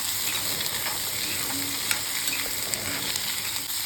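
Two chopped tomatoes sautéing in a pan, a loud steady sizzle with occasional light clicks of stirring, close and continuous, no voices.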